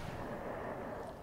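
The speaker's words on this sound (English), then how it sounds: "I'm just gonna shoot a whole bunch of bullets at you" Steady, dense rumble of rapid gunfire in the space shooter Lovers in a Dangerous Spacetime, a continuous loud burst of shots running unbroken for a little over a second with no voices.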